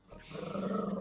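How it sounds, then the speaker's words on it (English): A big male dog growls low and steadily, rising in intensity over about a second, close and fairly loud with no talk over it. "Don't growl at him."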